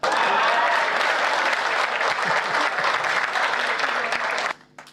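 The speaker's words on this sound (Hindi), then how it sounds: "तालियां सुमित के लिए बजा सकते हैं आप" Loud, dense audience applause at a Hindi kavi sammelan poetry gathering, a steady roar of many hands that stops abruptly near the end, leaving near silence.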